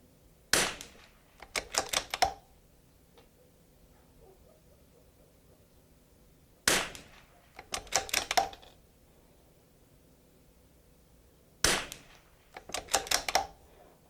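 Three clusters of sharp, loud shots from a Vudoo rifle firing Eley match ammunition at targets, each burst several quick cracks close together, separated by long quiet pauses with faint background.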